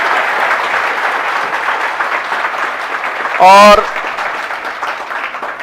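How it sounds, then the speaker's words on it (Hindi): Audience at a welcome ceremony in Suratgarh giving hearty applause, a continuous dense clapping roar heard throughout, briefly interrupted by a loud warbling burst from a microphone, with a voice speaking a word. "जोरदार तालियों के साथ जो है।"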